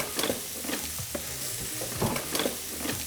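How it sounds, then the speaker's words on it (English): A big tuna steak sizzles on a grill with a soft, steady hiss. Brief light crackles and pops rise above the sizzle a few times. "One nice big tuna steak on a grill."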